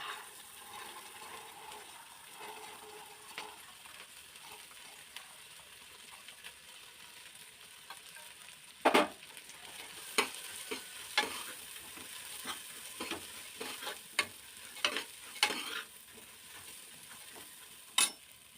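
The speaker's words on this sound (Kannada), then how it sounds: "ಇದಕ್ಕೆ ನಾವು ಆವಾಗಲೇ ಕಾಳು ತೋರಿಸಿದ್ನಲ್ಲ ಹೆಸರುಕಾಳು ಮೊಳಕೆ, ಅದು ಆ ಕಾಳು ಸೇರಿಸೋಣ." Sprouted green gram dropped into a hot tempering fries with a quiet sizzle, then a louder splash and a run of irregular scraping, clinking stirring strokes against the pot.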